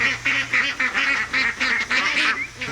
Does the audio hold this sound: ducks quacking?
yes